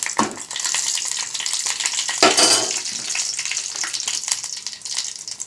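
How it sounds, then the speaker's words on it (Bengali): Lentils with cumin and chili tempering in a bowl instead of a pan, a steady close sizzle of frying with a sharp crackling burst partway through, no talk. "বাটিতেই সাঁতলে দিই।"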